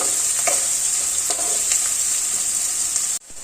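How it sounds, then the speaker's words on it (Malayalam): Small shallots sautéed in a pan give a continuous close sizzle with occasional scraping stirs, then the sound cuts off abruptly near the end; no one speaks. "നല്ലപോലെ ഒന്ന് വഴറ്റി കൊടുത്ത് ചെറിയ ഉള്ളിയുടെ കളറൊക്കെ ഒന്ന് മാറി വരണം"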